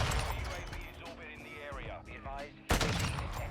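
An SPX sniper rifle in a Call of Duty game fires one sharp, loud shot near the end. Earlier gunfire crackles under a voice.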